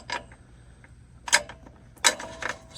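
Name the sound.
bolt being worked back out on 84 Bronco alternator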